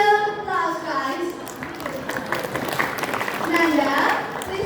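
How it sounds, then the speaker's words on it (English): An audience claps after a performance at a school literacy event, a modest applause mixed with voices talking and calling out over it. "Give him a little applause, guys."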